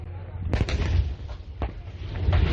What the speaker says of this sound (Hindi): ये एक और फायरिंग